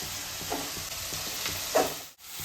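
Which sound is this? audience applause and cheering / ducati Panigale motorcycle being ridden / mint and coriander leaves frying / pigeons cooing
mint and coriander leaves frying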